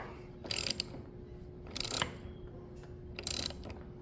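A bench vise cranked to press longer wheel studs through a plate on a 1994 Corolla, three short bursts of ratcheting clicks spaced about a second and a half apart over a quiet background.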